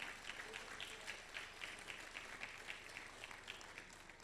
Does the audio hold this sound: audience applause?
yes